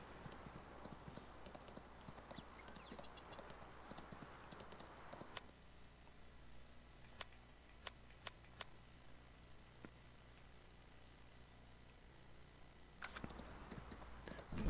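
Horse hooves from riding in Farming Simulator 19, a faint rapid clip-clop that fades out midway and returns near the end, with scattered light clicks.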